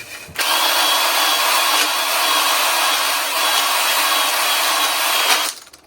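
A 220-grit hone spins inside a cylinder bore of a 2015 Kia Soul G4NA engine being rebuilt, giving a steady, loud grinding whir that runs without a break for about five seconds and then cuts off.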